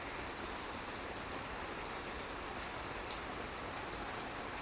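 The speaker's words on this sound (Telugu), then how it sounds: "వర్షం మాత్రం అసలు ఆగడం లేదండి, పడుతూనే ఉంది నాన్ స్టాప్గా" Continuous rain falling nonstop since morning, a soft steady hiss of dense drops at moderate distance with a few brief louder taps, no voices over it.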